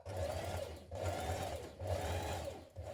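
Sewing machine top stitching a dress pocket from the outside, a continuous near hum of rapid stitching pulsing in short bursts with no voices.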